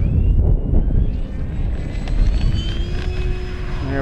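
An FMS F7F radio-controlled model plane taking off, with a loud, rising electric motor and propeller whine over heavy wind rumble on the microphone, the pitch climbing steadily as it speeds away.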